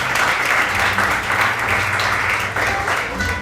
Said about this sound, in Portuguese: Vocês merecem a salva de palmas por isso, né, gente?